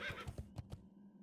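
A horse mount is summoned in World of Warcraft Classic, giving a brief whinny with a few quick pulses, fairly quiet and heard alone.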